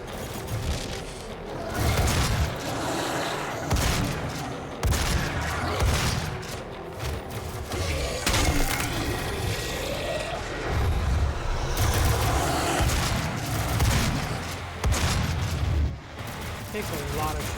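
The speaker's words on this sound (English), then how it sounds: "Takes a lot of shots with the shotgun to put these guys on." Repeated shotgun blasts in a fast-paced shooter video game, heavy booming shots fired in quick bursts amid dense explosions and combat noise, with someone talking over the action.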